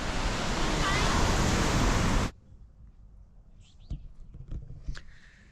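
Surf rolls steadily onto a cold Upper Peninsula beach in Michigan, a loud, full wash for about two seconds that cuts off abruptly, leaving only faint scattered sounds.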